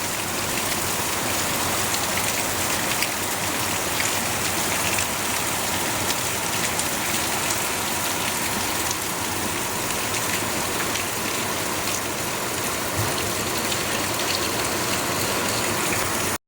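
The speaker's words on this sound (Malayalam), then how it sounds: "നല്ല മഴ" A steady, heavy downpour fills the air with a thick, unbroken roar of rain on surfaces, with no voices.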